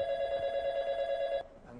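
Steady electronic telephone ring on a live TV call-in health show, a bright sustained tone lasting over a second before cutting off, with faint studio room noise after.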